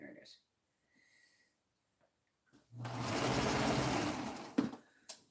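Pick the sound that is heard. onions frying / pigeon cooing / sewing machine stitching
sewing machine stitching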